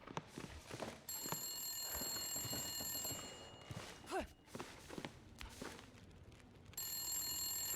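An old-style telephone bell ringing in the video game The Long Dark, a bright metallic trill in long bursts separated by gaps, with footsteps and movement sounds between rings.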